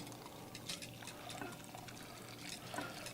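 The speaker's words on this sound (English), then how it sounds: "We're going to just carefully pour it into a glass bowl." Homemade eggnog poured slowly from a pan into a glass bowl, a soft continuous trickle and splash heard close and fairly quiet.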